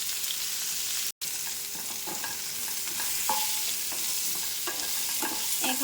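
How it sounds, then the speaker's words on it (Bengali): Pointed gourd (potol) fries in hot oil with a little turmeric, giving a steady close sizzle broken by repeated scraping stirs, with one brief dropout early on. "এই যে পটলটা ভাজা হবে আর কি, তেলত ভাজা হবে"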